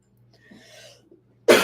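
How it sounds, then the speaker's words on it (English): A single short cough at the end, sharp and close, after a few seconds of quiet breathing and faint rustle. "I still have a little bit of a cough"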